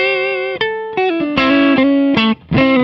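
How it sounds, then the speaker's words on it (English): Clean electric guitar run through a compressor pedal, a few sustained notes and chords with even, squeezed dynamics, played close and loud with no talk. "In a nutshell, it turns up your guitar when you're quiet and it turns it down when you're loud, essentially compressing your signal."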